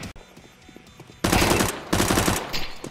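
Rapid automatic gunfire in a video game shooter bursts in loud and close after a quieter stretch, in dense repeated volleys.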